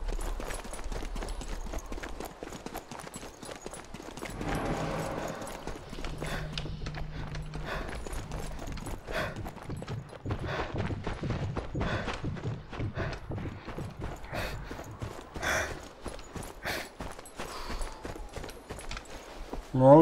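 Donkey hooves clip-clop steadily in the video game Sniper Elite 4, a continuous rhythmic patter of hoofbeats under intermittent mechanical clatter, with someone talking over them.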